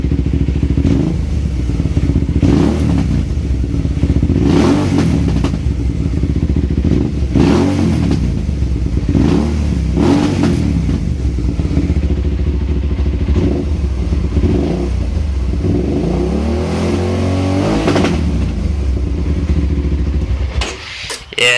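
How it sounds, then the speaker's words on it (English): A 2006 Hyosung GT650R motorcycle engine idles loudly and close, then revs in a series of repeated throttle blips with exhaust popping and crackle between them, running steadily for about twenty seconds before cutting off. "Of course, I'm not gonna be revving it up like that while I'm riding"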